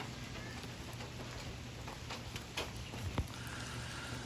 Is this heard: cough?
no